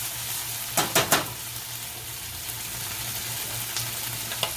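Mushrooms fry in a pan for a keto bacon omelette meal, a steady close sizzle with a few sharp clattering scrapes of a utensil early on.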